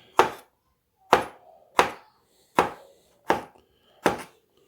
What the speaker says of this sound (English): All right, let's chop this up and see